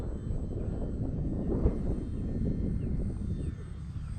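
Skynetic Shrike RC power glider flying past, its small electric motor a faint steady whine beneath heavy wind buffeting the microphone, swelling slightly midway as it comes closer.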